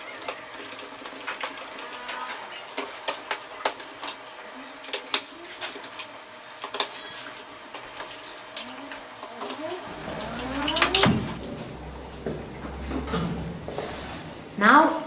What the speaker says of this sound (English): Now we're going to put the 6 screws which are fixing the cover to the body.